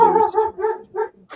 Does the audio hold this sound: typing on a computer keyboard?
no